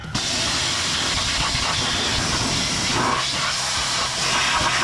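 Steady hiss of cleaner sprayed across the underside of an off-road Jeep and its transfer case, a continuous close broadband spray with no pauses and no talking.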